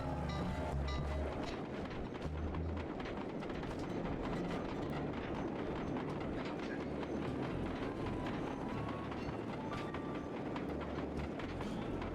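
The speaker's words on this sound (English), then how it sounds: "And then we're gonna ride the train." Riding a train in the video game Sly 2 brings a dense, steady rumble and rattle of rail travel, loud and continuous with no pauses or voices.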